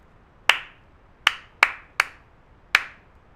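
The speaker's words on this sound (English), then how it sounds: "I'm just going to clap a sound of some series of claps, and then that's called a rhythm" Five sharp hand claps sound in a short uneven rhythm, close and crisp, each with a quick decay, against near silence.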